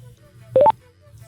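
A Cardo FREECOM4+ motorcycle intercom gives a quick rising sequence of three electronic beeps after its intercom button is pressed, a short, clear chime over a faint background hum.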